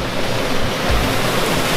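Water from a small creek flows steadily into a semi-natural pool at El Chorro Macho in El Valle de Antón, Panama, a continuous close rushing wash with no voices.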